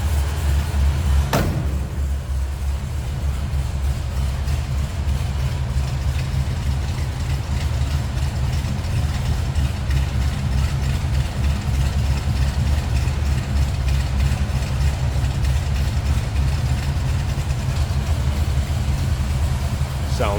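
A 1969 Chevrolet Biscayne 427 L72 V8 idles steadily after a cold start, with a loud, deep, even rumble that runs throughout. A brief click comes early on.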